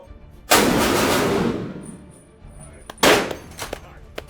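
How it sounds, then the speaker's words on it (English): A Barrett .50 caliber sniper rifle fires outdoors: two heavy, booming shots a few seconds apart, each with a long, rolling decay. "The Barrett 50 cal sniper rifle that we just fired, it's the machine gun version of that."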